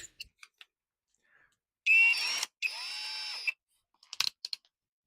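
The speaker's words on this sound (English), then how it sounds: "Right, where's my drill?" A power drill fitted with a 12mm bit whirs in two short bursts, close and fairly loud, amid scattered clicks and handling knocks in a quiet workshop.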